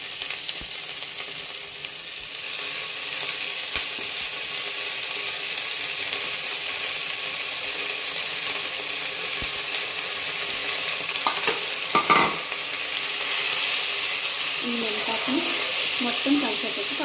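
Onion, tomato and fenugreek leaves fry in a pan for a methi leaves curry, a steady sizzle running throughout with occasional scraping stirs and a louder clatter near the end.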